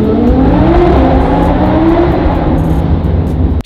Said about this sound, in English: Now this is how you should drive an AMG GT.